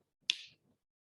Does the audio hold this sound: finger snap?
yes